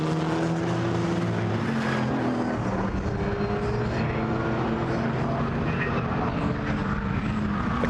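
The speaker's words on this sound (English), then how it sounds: "The KTM quivering its way down towards Paddock as he braked hard, but it's Benjamin Lessène still the fastest" GT4 race cars at Brands Hatch during qualifying produce a steady, fairly distant engine roar that drones continuously, with a faint commentator voice under it.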